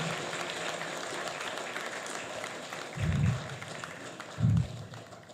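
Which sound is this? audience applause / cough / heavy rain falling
audience applause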